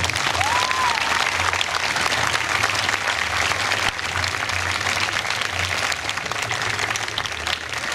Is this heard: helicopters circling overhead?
no